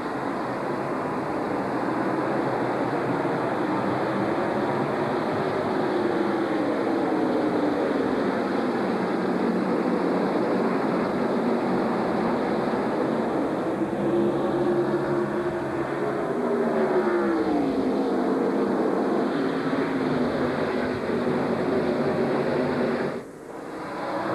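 NASCAR stock cars roar at the green flag start at Richmond International Raceway in 1999, a dense continuous engine drone with rising and falling pitch sweeps as the field passes, steady and loud throughout.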